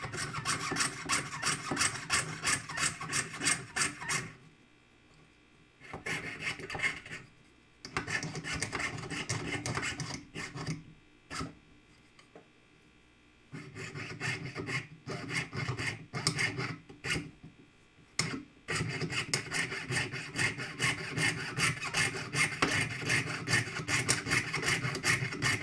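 A hand saw fitted with a heavier blade cuts through a thick, heavy piece of metal, a steady rasping stroke rhythm running loud and close, broken by a few short pauses before resuming.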